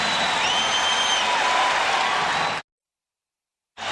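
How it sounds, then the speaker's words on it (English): NBA Finals arena crowd during a Bulls–Lakers timeout, a loud, sustained roar of cheering and applause with faint whistles, cut off abruptly before resuming. "The crowd trying to get the home club going."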